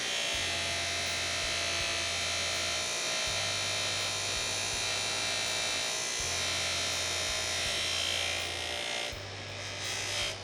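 An arrow shaft from a Victory VAP TKO build is buffed with polishing compound on a power tool, producing a steady, close buzzing whir broken by repeated low pulsing hums and pauses, with no talking.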